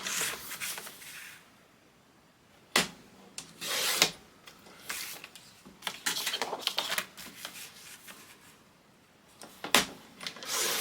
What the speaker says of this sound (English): so I'm going to trim this one down to 11 7/8 by 11 7/8